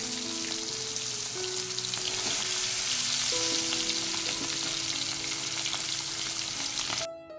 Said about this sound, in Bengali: এবার আমি চিকেনগুলোকে একটু দিয়ে ভেজে নেব এর মধ্যে